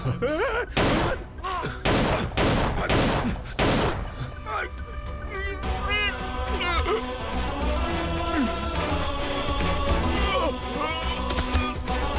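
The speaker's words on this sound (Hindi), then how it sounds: "गोली चलाओ, गोली चलाओ।" Gunfire rings out in a Hindi-dubbed South Indian action movie: a quick run of loud, heavy shots in the first few seconds, then dramatic music and a wash of noise. No dialogue is heard.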